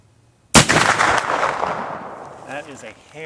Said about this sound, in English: Patrick Roos firing his 50 caliber Hawkens rifle